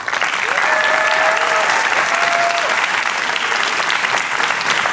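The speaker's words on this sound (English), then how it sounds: "A round of applause to all our amazing startups" Sustained applause from a conference audience at a leadership forum, steady dense clapping filling the whole stretch with faint crowd murmur, loud and close throughout.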